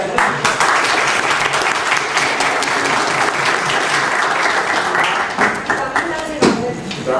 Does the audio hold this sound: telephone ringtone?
no